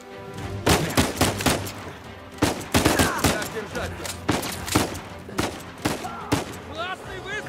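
Rapid bursts of gunfire from Uncharted 4 on PS4, with repeated loud volleys and machine-gun-like shots across the whole stretch, while voices chatter underneath.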